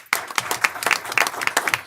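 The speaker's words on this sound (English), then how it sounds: "Give him a round of applause." An audience at a school district board meeting gives a cadet a short burst of applause, many hands clapping loudly and densely for about two seconds.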